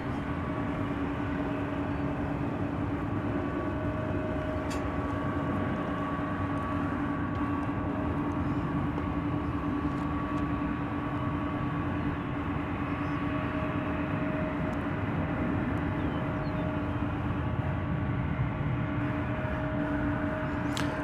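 An American Airlines 737 at DFW Airport produces a steady, distant roar of jet engines, an even drone with faint tonal hums holding constant throughout.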